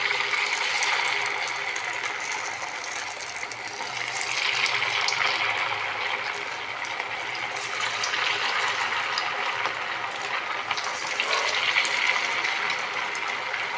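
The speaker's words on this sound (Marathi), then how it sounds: "आता इथे तेल छानपैकी कडक तापलेलं आहे. आपण हे वडे यामध्ये साईडने अलग असे सोडायचे." Sabudana vadas deep-frying in very hot oil give off a steady, close, loud hiss and bubbling that runs unbroken from start to finish, with no voices.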